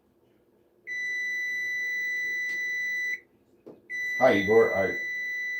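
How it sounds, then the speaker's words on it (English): Steady electronic beeping from a kitchen timer during a live lobster cooking session, a continuous tone that stops, then resumes as a person speaks over it. "Timers off."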